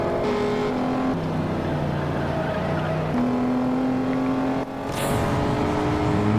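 Racing car engine in the street racing game Juiced, a continuous loud drone with gear shifts stepping the pitch up and down as the car accelerates, with no talk.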